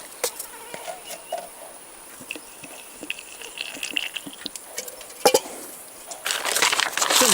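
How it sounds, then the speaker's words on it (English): Dry white rice poured into a hollow bamboo stalk at a jungle cooking fire: a quiet, scattered patter of light grainy ticks, ending in a louder rushing spill. "Pouring white rice into a hollow bamboo stalk."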